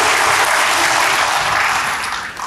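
A church congregation during an Indonesian-language sermon applauds in a thick, continuous wash of clapping. It holds steady, then thins slightly near the end.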